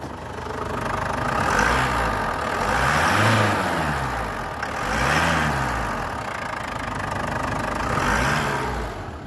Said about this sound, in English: I'm going to rev the engine for you so you can hear it.